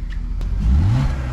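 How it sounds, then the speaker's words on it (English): A BMW project car's engine gives a brief rev, the low engine tone rising then settling over a steady idle rumble, heard close by. "Give it a little rev"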